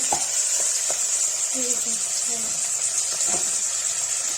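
Whole cloves sizzling in hot oil for Kashmiri saag paneer, a steady bright frying hiss throughout with small pops and clinks of stirring, and a voice speaking faintly underneath.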